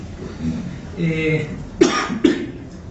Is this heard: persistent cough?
yes